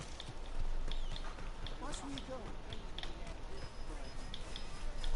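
Horse hooves clip-clopping in Red Dead Redemption 2, a steady rhythmic trot under game ambience and occasional voices, moderately loud throughout.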